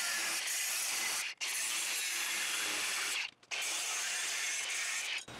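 An angle grinder cuts out the weld seam of a steel pipe held lightly in a vise, whining loudly and steadily with two brief breaks where the disc lifts off the metal.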